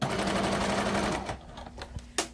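A sewing machine runs a fast, continuous whirring stitch along a fabric face mask for about a second, close and loud, then stops, leaving soft handling clicks and light rustles.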